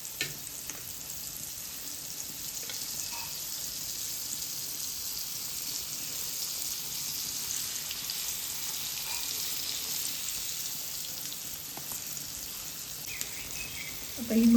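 Pomfret coated in rice flour shallow-fries in hot oil in a pan over a low gas flame, giving a soft, continuous sizzle that holds steady throughout, with a slight rise at the very end.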